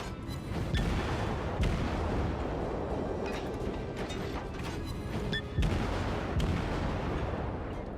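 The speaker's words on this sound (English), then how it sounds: "Alright, let's start letting loose the cannons here." Deep naval cannon booms from a warship in World of Warships, repeated irregularly over a constant rumbling battle noise, with no voices.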